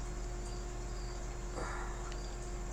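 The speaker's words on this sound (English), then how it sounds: "I can hear your crickets in the background." Crickets chirping in the background indoors, a faint steady high trill over a low constant hum, with no talking.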